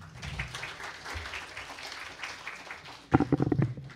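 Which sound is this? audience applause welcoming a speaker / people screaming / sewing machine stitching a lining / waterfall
audience applause welcoming a speaker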